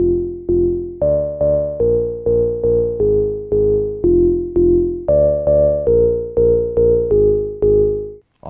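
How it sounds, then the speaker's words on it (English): A Roland SH101 synthesizer plays a bright, buzzy monophonic bass line of short, evenly spaced notes, each with a sharp attack and quick decay, loud and alone. "To me, that's the sound of the SH101."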